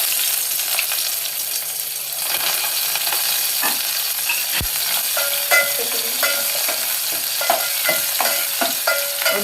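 Onions frying in hot oil on medium heat for vegetable biryani, with a loud, even sizzle throughout and quick scraping stirs of a spoon growing more frequent toward the end, close up with no talk.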